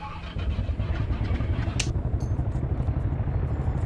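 An aircraft engine in the X-Plane 11 flight simulator cranks and catches, then settles into a steady, loud, rumbling drone that fills the clip from the first half second on, with a brief click partway through.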